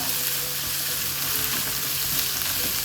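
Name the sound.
sautéed onions being stirred in a pan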